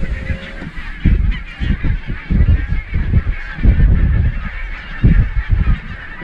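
A large flock of barnacle geese calls continuously in a steady, overlapping chorus of honking, loud and close, with no one talking.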